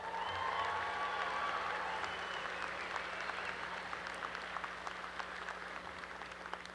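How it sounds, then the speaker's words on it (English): A commencement ceremony crowd applauds the brass choir, a steady wash of many hands clapping at a distance, faint and even throughout, with a low hum beneath. "Let's give them a round of applause."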